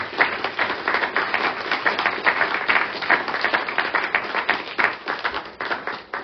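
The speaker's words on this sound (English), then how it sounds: "Let's have a last round of applause for all tonight's readers." An audience applauds steadily, a dense patter of many hands clapping for several seconds before tapering off.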